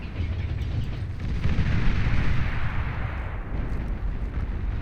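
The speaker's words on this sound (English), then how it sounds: "Capital ship still shelling away over here." Capital ship shelling in the strategy game Beyond All Reason, a continuous rumbling barrage of distant booms that swells slightly in the middle, dense and steady with no voices.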